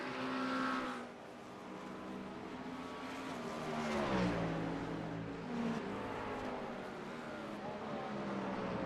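Cadillac and Porsche race cars at speed on the Sebring circuit, engines droning and shifting pitch as they pass, with a surge of revving near the middle and a steady roar throughout.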